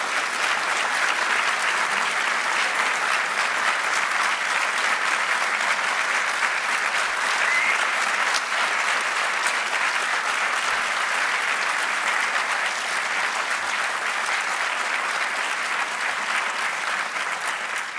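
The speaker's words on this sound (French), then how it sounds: "je vous demande d'applaudir l'Institut, sa directrice et ses personnels dans le même tonnerre d'applaudissements" Sustained applause from an audience at the closing ceremony of the INHESJ national sessions, a dense and steady wash of clapping from many hands that continues evenly for the whole stretch.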